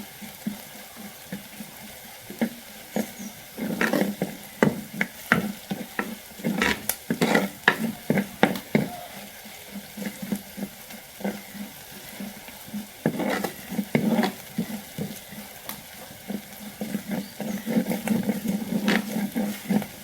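Ginger and garlic fry in a hot pan while being stirred. A soft, steady sizzle is broken by repeated scraping strokes of the spoon in uneven bursts, close and clear, with no voices.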